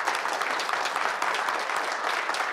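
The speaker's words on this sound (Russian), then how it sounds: "Аплодисменты, Алексей!" Enthusiastic applause from a TV studio audience, dense and continuous clapping at a steady level throughout.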